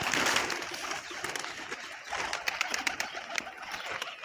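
Pigeons cooing on a rooftop among other bird sounds, soft and fairly close against a hissy outdoor background, with scattered fluttery noises throughout.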